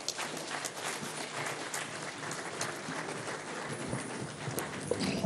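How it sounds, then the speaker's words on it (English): A room of party members applauds the chairman at a political leadership meeting, a continuous, fairly even patter of many hands clapping throughout, moderately loud with no voices. "A bigger round of applause for the chairman"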